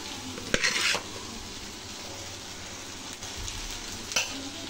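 Cooked rice is stirred into sizzling spices in a pan for a leftover-rice biryani. A steady frying hiss runs throughout, with a few scraping clinks of the spoon against the pan and no speech.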